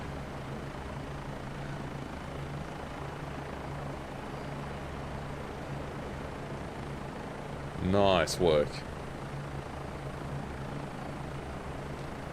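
A continuous rumbling drone of a Bo 105 helicopter's rotor and turbine in a flight simulator game, steady and unchanging, with a short spoken remark partway through.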